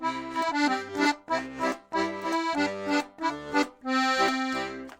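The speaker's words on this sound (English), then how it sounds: "Level 1 melody sounds like that." An accordion plays a simple single-note melody in separate phrases, with a reedy, sustained tone and short pauses between the note groups.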